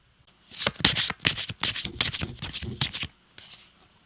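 Tarot cards are shuffled up close in a run of crisp, rapid riffles and brushing strokes for about three seconds, then fading to near silence.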